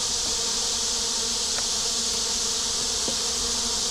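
Honeybees swarm outside their hive on a hot day, a dense continuous buzzing of many insects close by and steady throughout, with no voices.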